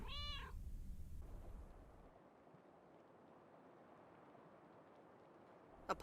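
A cat meows in the video game Lake, one short wavering meow at the start, then quiet ambient hiss and a brief sharp sound at the very end.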